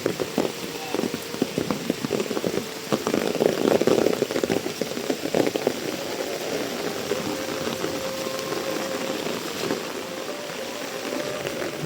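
Steady rain falls on a village route in rural Bangladesh while people go house to house looking at cows, a dense continuous patter with a low engine-like rumble underneath and no talk.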